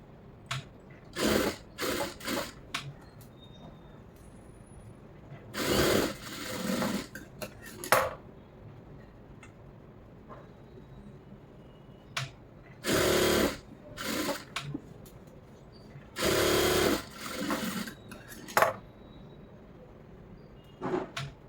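A sewing machine stitches a lining blouse in short, loud, close bursts of rapid whirring, separated by pauses where a voice speaks quietly.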